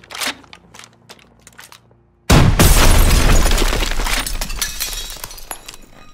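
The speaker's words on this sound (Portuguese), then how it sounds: "Cuidado com a explosão!" A loud blast hits after two seconds of quieter ambience in the World War II video game Call of Duty WWII, a sudden booming explosion followed by shattering, crumbling debris that slowly fades.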